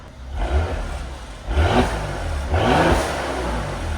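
A Mercedes GLE 43 AMG with a 3.0-litre twin-turbo V6 revs up in three strong, close blips, each swelling and settling back to a steady idle between them.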